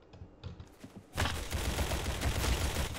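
Dense, sustained gunfire from Roblox Arsenal erupts after about a second of quieter rattling, then continues loud and steady to the end with no talk.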